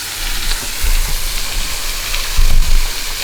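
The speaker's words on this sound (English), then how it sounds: "Got us a waterfall." A small, gently flowing waterfall in Shawnee National Forest makes a steady, close rushing noise with soft splashes rising and falling, heard alone.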